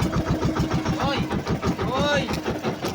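A fishing boat's engine starts on rough, wavy seas, a rhythmic low chugging and throbbing that settles into a steady run, with voices talking over it.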